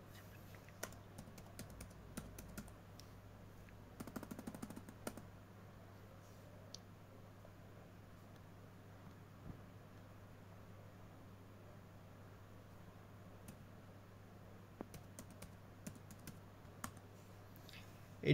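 Typing on a computer keyboard in a quiet room with a steady low hum. Sparse, soft key clicks come in short bursts, with a busier flurry of keystrokes a few seconds in.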